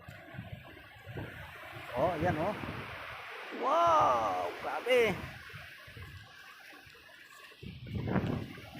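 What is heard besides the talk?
waves crashing on the shore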